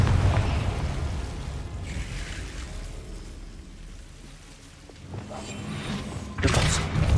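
A Confringo fire-blast spell explodes in Hogwarts Legacy, a dense roaring burst that rolls on through the clip with a fresh sharp blast near the end.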